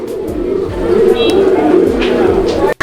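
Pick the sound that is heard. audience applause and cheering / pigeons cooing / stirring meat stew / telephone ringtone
pigeons cooing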